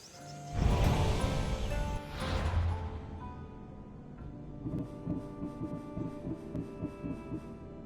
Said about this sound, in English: Your heartbeat is as loud as the sea itself.